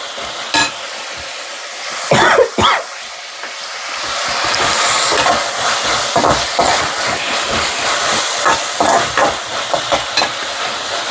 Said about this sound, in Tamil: இப்போ நல்லா தக்காளி வெங்காயம்லாம் வதங்கிடுச்சு